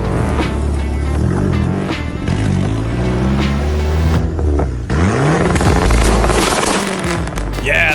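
A big-turbo Dodge Neon SRT4 engine revs hard and loud, its pitch sweeping up and down through several pulls with a brief drop in the middle before climbing again.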